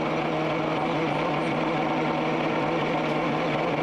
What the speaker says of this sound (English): You hear the rough sound from that Ford Cosworth engine as the electronic speed limiter cuts in